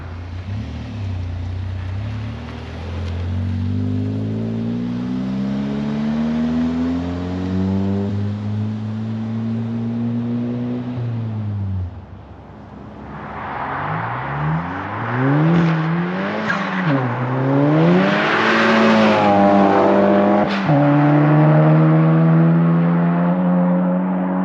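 A car fitted with a Baun Performance exhaust drives past, its engine note rising through the gears, easing off, then climbing again as it roars close by and fades, loud and alone.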